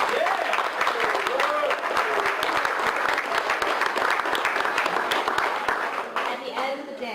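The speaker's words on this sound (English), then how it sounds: "I think Aaron deserves a big round of applause." Sustained applause from an audience at a Healthy City Fall River gathering, dense clapping that carries steadily through the whole stretch and then begins to thin toward the end.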